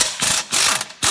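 A ratchet clicks in three quick bursts as it loosens the 15 mm rear control arm bolt on a 2009–2019 Ford Fiesta, close and crisp with short pauses between the bursts, no talking.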